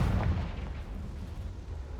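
The Confringo explosion spell in Hogwarts Legacy goes off as a loud, booming burst with a heavy low rumble at the start. It thins into a sustained roaring tail over two seconds.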